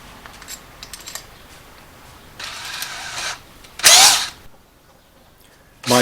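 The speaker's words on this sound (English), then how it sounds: "so I'm using my drill as a driver." A power drill, used as a driver, drives 8x1-inch screws while upper cabinets are installed, whirring in several short bursts, one loud and close, with quiet clicks and handling noises in the gaps between.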